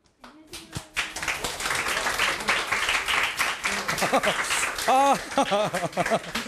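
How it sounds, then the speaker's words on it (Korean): A studio audience at a live Korean regional TV broadcast claps loudly for guests coming on stage, a dense sustained applause with cheering voices and shouts rising above it near the end. "오늘 여러분 나오시면 크게 박수 쳐주셔야 돼요"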